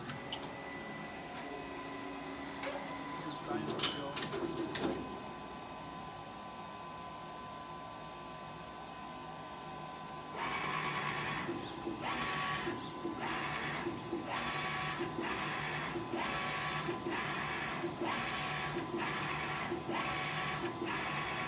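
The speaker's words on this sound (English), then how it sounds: "now we're gonna do a test print" A Brother GT-361 direct-to-garment printer runs a test print, with a steady mechanical hum and regular pulses of print-head carriage motion in the second half after an earlier stretch of clicks and whirring.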